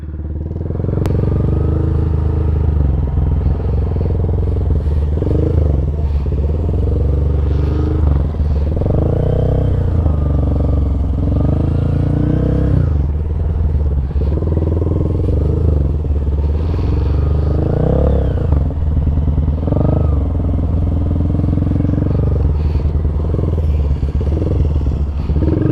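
A Kawasaki Eliminator motorcycle creeping at walking pace during clutch-control practice, its engine a steady low rumble with gentle rises and falls in revs and a faint clatter throughout.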